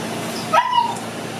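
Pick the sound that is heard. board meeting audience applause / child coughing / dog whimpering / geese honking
dog whimpering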